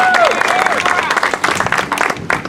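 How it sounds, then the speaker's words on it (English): Outdoor crowd at an opening day ceremony breaks into loud, dense applause with scattered cheers, swelling and dipping in bursts over a couple of seconds. "So great round of applause."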